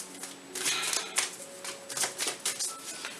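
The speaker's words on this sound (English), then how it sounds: "I'm going to give them a really good shuffle." A deck of tarot cards being shuffled by hand, quick riffling clatters and soft flicks coming in irregular bursts, close and fairly quiet.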